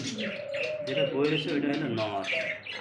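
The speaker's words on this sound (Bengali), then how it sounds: "ডায়মন্ড ড্রাপ ঘুঘু সব থেকে একইবারে ছোট জাতের ছোট ঘুঘু" A diamond dove, a tiny dove species, coos in short soft phrases close by, with a person's voice talking over it.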